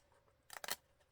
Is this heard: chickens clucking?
no